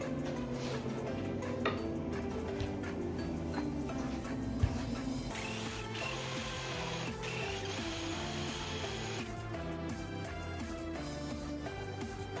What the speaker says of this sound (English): Then I'm going to cut it with the jigsaw.